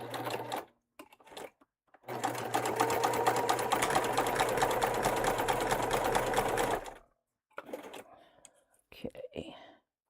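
A sewing machine runs a top stitch in one steady, rapid, continuous burst of several seconds, with brief clicks and handling noises before and after and soft whispered talk around it.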